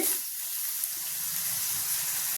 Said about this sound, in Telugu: ఉల్లిపాయ ముక్కల్ని గోల్డెన్ బ్రౌన్ కలర్ వచ్చే వరకు ఫ్రై చేసుకోవాలి